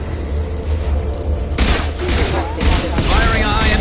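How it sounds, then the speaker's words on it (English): After a low rumbling lull, sharp high-impact gunshots from Mass Effect 2 burst in loudly, followed by booming reports and debris in quick succession. "Firing a high-impact shot!"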